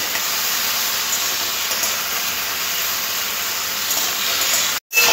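Vegetables, ridge gourd and potato, frying in a pan for a rohu fish curry, a loud, continuous, hissing sizzle close by that cuts off abruptly near the end, with no talking.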